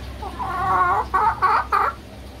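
A talking myna bird imitates a hen's clucking, drawing out one long warbling cluck and then three short, sharp clucks in quick succession, close and clear against a quiet room.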